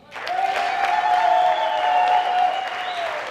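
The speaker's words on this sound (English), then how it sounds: "We need to clap hands for those people." A crowd at an African counter-terrorism summit applauds. The clapping swells quickly and stays full and sustained, with a steady high-pitched tone, like a whistle or ululation, ringing above it before both ease off.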